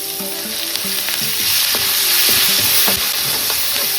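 Curry leaves, green and dried chillies, and turmeric sizzle loudly in hot oil, a dense crackling hiss with occasional spoon clinks and stirring noises.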